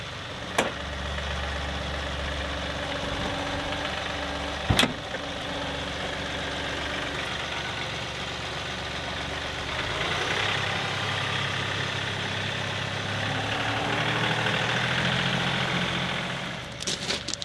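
A farm tractor engine idles steadily, a low continuous rumble with a slight rise partway through and a couple of sharp knocks or clanks, heard close with no talking.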